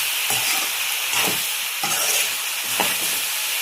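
Tomato and chili powder curry is stirred in a pan for a brinjal potato dish, with a steady loud sizzle broken by four rhythmic scraping strokes of the spoon.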